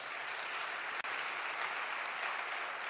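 A church congregation applauds in steady, dense clapping throughout, loud and continuous with a brief dip partway through.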